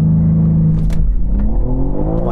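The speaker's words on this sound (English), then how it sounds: "Anyway, enough of that, let's launch the car." BMW M3 CS launching from a standstill, its engine revving hard and loud up close, with the pitch climbing steadily through the run and brief breaks in tone as it shifts.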